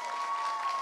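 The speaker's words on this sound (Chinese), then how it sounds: "掌声大一点" A short swell of audience applause in a church hall, with dense, even clapping and a faint steady ringing tone running underneath.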